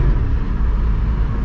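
A steady, loud engine drone from a Porsche GT4 sports car, with a deep low rumble, continuous and close, without any pauses or revving peaks.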